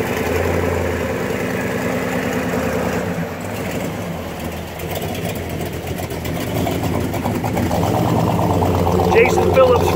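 A chopped custom 1951 Hudson Hornet with a Mopar drivetrain idles and then pulls away, its engine rumble steady and building louder toward the end, with people talking over it.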